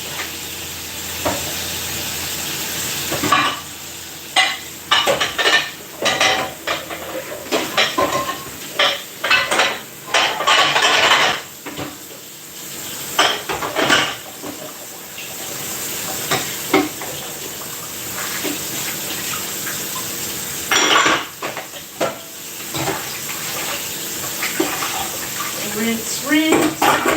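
Dishes being washed and rinsed in hot soapy water at a kitchen sink, with running tap water, sloshing and repeated clinks of pots and utensils, while people talk over it.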